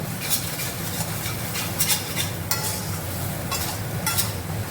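Lote fish jhuro being stirred and fried in an open pan, a steady sizzle of oil under repeated scraping and clinking strokes of a spatula against the pan, close and continuous.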